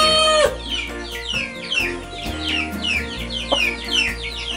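Ornamental chickens cluck and chatter continuously, several birds close by, with repeated rhythmic calls layered over one another.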